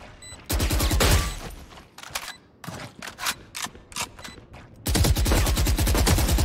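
Automatic rifle fire in Valorant rattles out in loud rapid bursts, a long spray at first, then short choppy volleys and single shots, and another sustained burst near the end, close and dry with brief gaps between.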